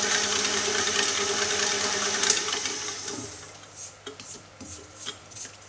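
A KitchenAid stand mixer whips white chocolate Italian meringue buttercream at speed four, a steady close motor whir with a faint rhythmic beater clatter that eases down midway, leaving softer intermittent knocks.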